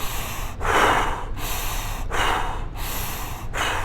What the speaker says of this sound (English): So it comes in through the nose, out through the mouth